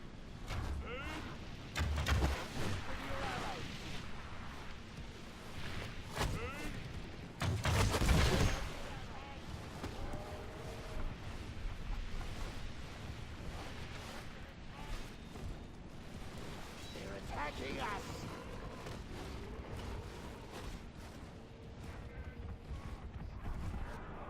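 Artillery salvos and gunfire in the Divide & Conquer strategy game's Anduin campaign, a busy, continuous battle din with repeated booming blasts and crackling shots, one heavy burst standing out near the middle.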